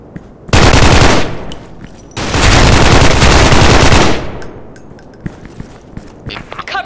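Two long, very loud bursts of automatic gunfire in the Counter-Strike video game are close and harsh, followed by scattered single shots and clicks. Voices are heard between the bursts.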